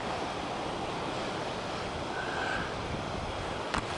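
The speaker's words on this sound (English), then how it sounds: "so you've got the rapids there" Rapids on the Mangshi River in Yunnan rush in a steady, dense roar of churning water, continuous and fairly loud with wind buffeting mixed in, and no voices.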